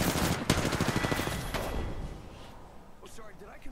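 Rapid automatic gunfire in the Apex Legends video game, a close fast burst of shots with a few louder cracks, fading into quieter game sounds as players talk.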